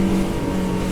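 Highfield 560 Sport boat engine held at a steady 6,000 RPM, a loud continuous drone with a strong low hum and broad wind-and-water wash, unbroken for the whole second with no talking.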